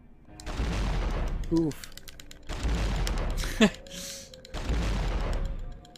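Grenade launcher fire in the video game Devil May Cry: three dense, noisy bursts of explosive blasts separated by short gaps, with a brief spoken exclamation between them.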